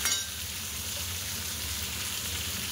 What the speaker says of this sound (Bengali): কটা সোয়াবিনও ভেজে নেব